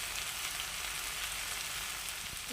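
Prawns fry in a pan with a spoonful of ghee, giving a steady, even sizzle with a hissing, rain-like texture and no voices.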